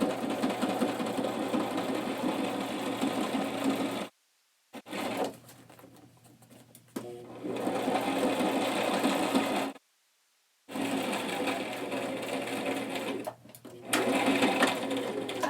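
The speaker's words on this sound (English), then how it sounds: "I'm just moving in like 1/8 of an inch and doing a top stitch." Sewing machine running a top stitch along a zippered pouch, a loud steady mechanical whir in long bursts broken by short pauses, with quieter handling sounds between runs and a voice speaking at times.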